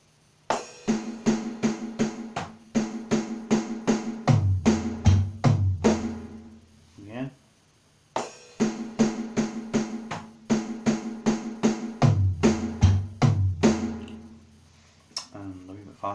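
A drum lick cycles between floor tom, snare and kick drum in quick, crisp repeated hits, played twice with a short pause between the phrases; no one talks over it.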